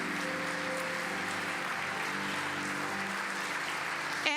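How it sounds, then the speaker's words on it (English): Steady applause from an audience honoring school board members at an awards ceremony, a dense even wash of clapping filling the room throughout without a break. "I would like to give a round of applause to our Leon County School Board members who are here tonight."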